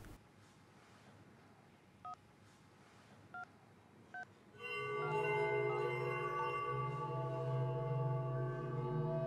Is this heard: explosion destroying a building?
no